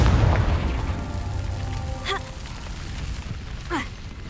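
Two spell explosions from the video game Hogwarts Legacy, each a booming burst with a rising magical whoosh, set over a steady rumbling game soundscape.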